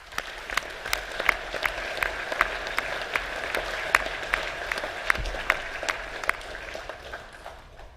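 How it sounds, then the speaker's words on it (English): Steady applause from a crowd at a school academic awards assembly, many hands clapping continuously with a few sharper claps standing out, fairly distant, no talking. "Let's give our 9A plus boys a round of applause."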